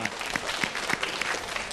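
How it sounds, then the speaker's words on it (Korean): At a Korean talk on coaching children, an audience claps together in a quiet, even rhythm, each beat a soft distinct burst with no talking over it. "다 같이 박수 한번 부탁드리겠습니다"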